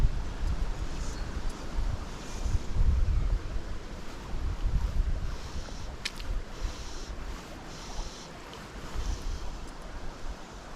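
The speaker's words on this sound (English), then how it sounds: "so bloody windy" Strong wind blowing over open water by a reservoir, gusting and buffeting the microphone in uneven surges with a low rumble and choppy surface noise.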